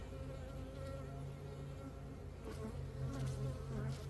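Honeybees at an open hive give off a dense, continuous buzzing close by, a steady swarm drone that swells slightly toward the end.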